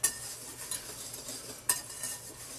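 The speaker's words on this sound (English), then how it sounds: "we're just going to whisk it around just to mix it up pretty well" A whisk stirs flour, salt and other dry ingredients for strawberry shortcake in a bowl, making soft brushing scrapes with a couple of sharper clinks against the bowl, close and quiet.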